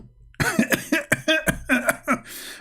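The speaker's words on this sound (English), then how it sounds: "I don't know how many times I need to cough to explain to you" A series of about eight sharp, close coughs comes in quick, uneven bursts, loud and harsh with no speech between them.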